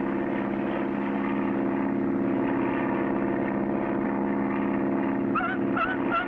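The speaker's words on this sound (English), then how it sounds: "the only way he can bring his plane down on the water with one float is to make a high-speed power landing" A cartoon propeller plane with one float comes down on water in a high-speed power landing, its engine droning steadily and loud throughout, with a few sharp honking squawks near the end.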